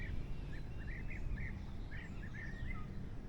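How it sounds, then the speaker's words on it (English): Repeated rolling, trilled calls of European bee-eaters sound at a distance over a steady low rumble of wind or water, on the Ebro River. "behind I can hear bee eaters"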